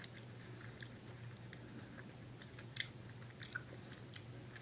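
Someone chews Paskesz sour stick candy close up, with soft, irregular crunches and bites over a steady low background hum.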